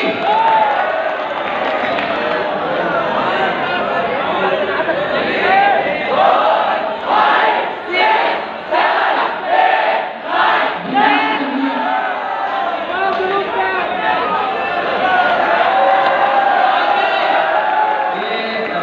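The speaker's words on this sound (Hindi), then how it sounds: "जोरदार तालियां टीम बी।" Loud applause and cheering for team B at a college quiz competition on Allama Iqbal Day, a long sustained roar of clapping and shouts with a burst of rhythmic claps midway, voices mixed in throughout.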